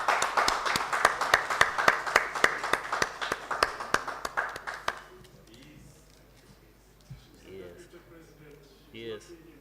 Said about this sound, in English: A hand clap, please.